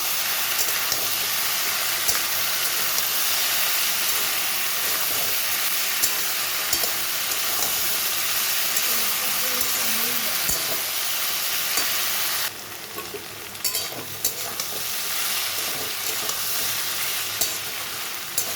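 Potatoes and shrimp with salt and turmeric being sautéed in a pan, giving a steady loud sizzle with faint scraping stirs underneath that drops a little in level partway through.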